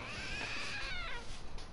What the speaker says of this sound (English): Well, it meowed, so it's a trick statue?